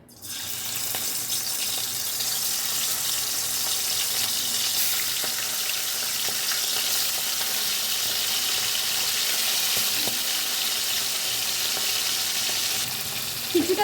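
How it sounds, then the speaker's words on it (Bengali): Shrimp frying in about three tablespoons of hot mustard oil in a wok, a loud, steady, close sizzle that runs unbroken throughout, with no talking. "তেলটা কিন্তু আমার গরম হয়ে গেছে এখন আমি প্রথমে মাছগুলোকে একটু ভেজে নেব"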